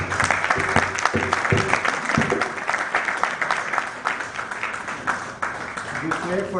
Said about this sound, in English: Give it a big applause.